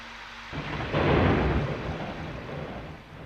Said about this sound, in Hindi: आज जोर जोर से बिजली कड़कने लगी